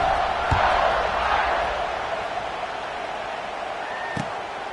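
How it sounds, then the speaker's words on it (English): A stadium crowd in College Football 26 keeps up a steady, broad buzzing roar after a score, with a couple of brief thumps on top. "this crowd is buzzing after that last score"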